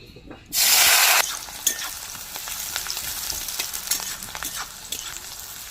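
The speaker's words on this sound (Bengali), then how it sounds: "এবার ফোড়নে দেবো কাঁচা লঙ্কা চেরা আর পেঁয়াজ কুচি কুচি" Slit green chilies and chopped onion drop into hot mustard oil with a sudden loud burst of sizzling, which settles into a continuous crackling fry with clicks of stirring.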